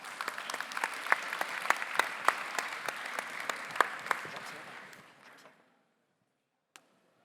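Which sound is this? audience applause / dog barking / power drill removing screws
audience applause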